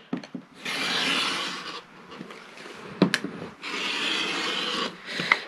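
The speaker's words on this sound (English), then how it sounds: "And now you're going to trim off this edge." Rotary cutter or blade trimming the fabric edge of a quilt block made from precut squares, giving two sustained close rasping rubs separated by a few sharp knocks and handling noises, with no talking.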